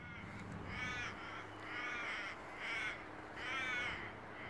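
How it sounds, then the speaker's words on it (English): Several crows caw in four spaced bursts of harsh, repeated calls, moderately distant against a faint steady background hiss, with no talking. "There's three crows, four crows, five crows."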